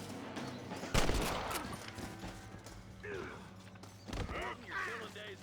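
Gunshots in Red Dead Redemption, one sharp loud crack near the start and another around the middle, mixed with mechanical clanks and a voice talking between the shots.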